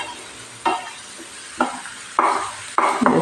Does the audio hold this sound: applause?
no